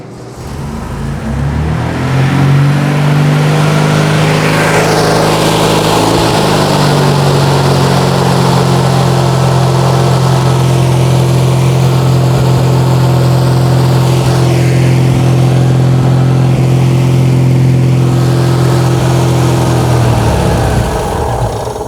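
A 1966 VW Fastback Type 3 engine catches and settles into a loud, steady, close-up run, its buzzy drone rising slightly as it is revved before cutting off near the end.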